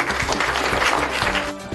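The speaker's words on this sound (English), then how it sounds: "Let's give everybody a round of applause for making this happen." An audience at a city arts and culture committee meeting applauds with dense, steady clapping that fades slightly toward the end.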